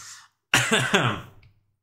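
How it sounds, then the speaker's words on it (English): A single harsh cough bursts out after a brief quiet, rasping and close to the microphone before it fades, preceded by a short breathy sound, with no talk around it. "Spicy cough."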